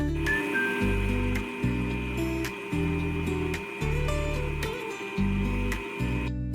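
An electric mixer beats cake batter of egg yolks, sugar and margarine with a close, droning motor hum that shifts pitch in rhythmic surges, alone without talk.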